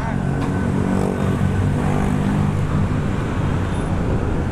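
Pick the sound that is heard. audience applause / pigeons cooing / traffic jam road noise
traffic jam road noise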